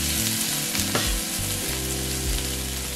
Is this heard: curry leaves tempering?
yes